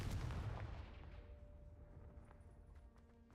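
A Confringo blast spell fired in the Hogwarts video game lands as one loud, deep explosive boom that rolls off into a fading rumble with a faint high ring.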